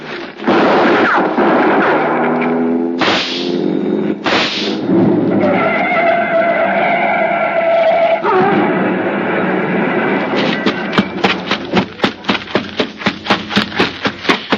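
Gunshots in a radio drama: a loud sharp burst of shots at the start, then a tense sustained stretch, ending in a fast run of repeated percussive bangs, with no speech over it.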